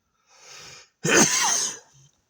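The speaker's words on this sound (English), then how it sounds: "Wow, that sneeze felt like a mini workout." A single loud sneeze with a short breathy wind-up, then a burst of noisy exhalation, close by with no talking.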